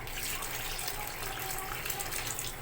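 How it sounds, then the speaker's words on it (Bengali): Water gushing steadily into a pan of cooking chicken, a continuous hissing pour at a fairly quiet level with no talking. "আমি এখন জল অ্যাড করে দেবো"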